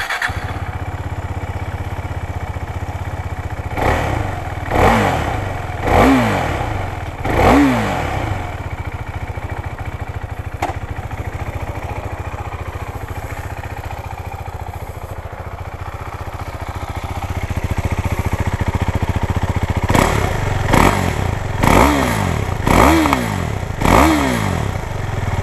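Husqvarna Vitpilen 401 motorcycle engine starting, then blipped through several sharp revs that rise and fall, a quieter idle stretch, and another burst of quick throttle revs at close range.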